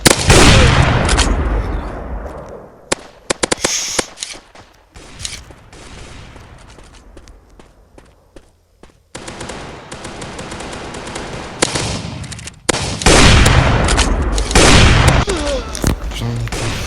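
Loud bursts of gunfire from the mobile shooter game MaskGun, including sniper rifle shots, crack out in dense clusters with quieter gaps between them.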